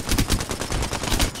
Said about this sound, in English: shooting someone up top